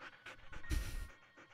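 A dog pants in short rhythmic breaths, close and fairly soft, with one louder huff in the middle, in the video game Nancy Drew: Ghost Dogs of Moon Lake.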